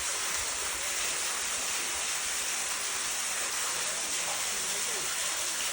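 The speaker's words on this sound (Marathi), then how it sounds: "नुसतं पाणी पडतं." Irrigation water pours steadily into a wheat field on a family farm, a continuous close broadband rush that stays even and unbroken throughout.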